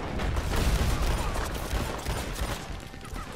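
Gunfire rattles at the player in Red Dead Redemption 2 during a legendary bounty, a dense, continuous barrage of shots and booms throughout, loud and close.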